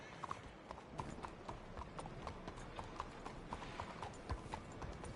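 Horse hooves clip-clop at a steady walking rhythm in Red Dead Redemption II, each hoofbeat crisp and evenly spaced over soft ambient game noise.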